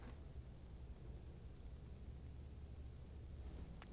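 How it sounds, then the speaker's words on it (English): A cricket chirps in short, regular bursts over a low background hum, steady and fairly faint, with no voices. "Do you hear that cricket?"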